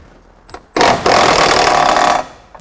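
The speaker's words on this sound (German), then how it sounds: "mit einem Schlagschrauber macht sich das echt am besten" An impact wrench loosens the nuts on a caravan's support legs, a loud burst of hammering rattle starting abruptly, pausing for an instant, then running steadily for over a second before cutting off, close and without talk.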